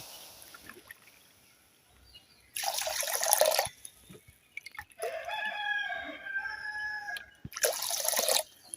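Three cups of water poured into a kadai holding a cup of sugar to make syrup: two loud splashing pours a few seconds apart, with rooster-like crowing calls in between.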